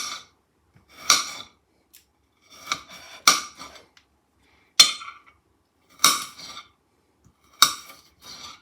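A kitchen knife chops ingredients on a board in short bursts of crisp, sharp taps, about six separate clusters with quiet pauses between, close and clear with no talking.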